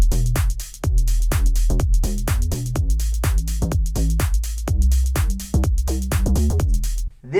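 A synth bass line pumps out a busy, syncopated run of short notes at steady volume, playing alone.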